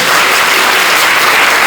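An audience bursts into loud, dense clapping, a brief close burst of many hands with no pause.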